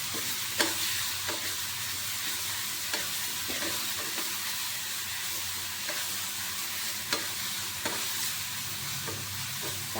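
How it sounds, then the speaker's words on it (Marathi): Green chutney with turmeric sautéed in a pan for vada pav, giving a continuous close sizzle broken by regular scraping stir strokes about every second, no talking. "तर ही चटणी आपण छान अशी परतून घेणार आहोत"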